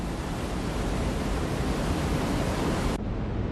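Niagara Falls roaring, a steady dense broadband rush of pouring water that holds constant, then drops abruptly to a quieter rumble near the end.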